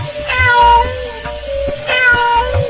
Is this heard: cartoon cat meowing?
yes